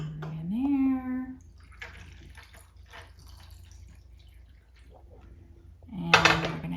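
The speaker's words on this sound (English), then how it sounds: "And pour the margarita in there." Spicy margarita poured from a cocktail kit into a salt-rimmed glass over ice, a soft, faint trickle and light clinks between stretches of talk at the start and end.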